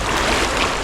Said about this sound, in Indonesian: Sungainya cukup dalam dan alirannya deras.